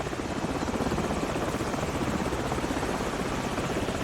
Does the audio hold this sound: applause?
no